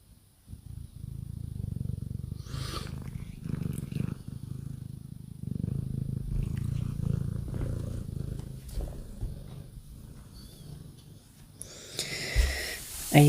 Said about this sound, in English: stop purring because I don't want your food to come the wrong way out